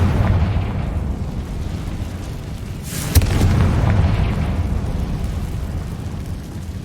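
A Confringo blasting spell goes off in Hogwarts Legacy, one sharp crack followed by a broad rumbling boom that swells and fades over a steady low ambient drone.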